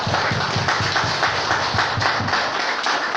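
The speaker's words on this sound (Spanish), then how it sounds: "otro aplauso." A church congregation applauds during a family-themed sermon, a dense, steady wash of clapping with a faint rhythmic pulse running through it, close and loud.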